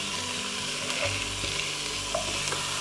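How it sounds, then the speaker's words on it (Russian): Steady oil sizzle and crackle of carrot and onion frying in a pan, continuous and close, with a few soft stirring knocks and no talk. "Масло нагрелось, отправляем обжариваться морковь и лук. Обжариваем одновременно."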